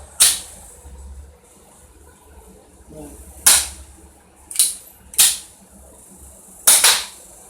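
Air pistols firing BB pellets, five sharp snapping shots at irregular intervals, each with a quick bright crack and short tail, close and fairly loud over a low background rumble, with no talk.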